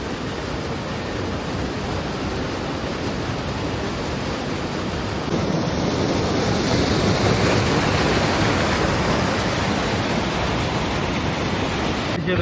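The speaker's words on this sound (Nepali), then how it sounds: "अहिले चाहिँ हामी म्याग्दीको रुप्से झरनामा छौँ" Rupse waterfall in Myagdi, a broad, steady roar of falling water filling the scene with constant dense rushing noise, growing slightly louder partway through, with no voices.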